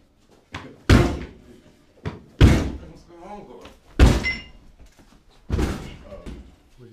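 Series of heavy thuds as a door is rammed against an On Guard security door brace, four loud impacts spaced about 1.5 seconds apart, close by, with people talking between the blows.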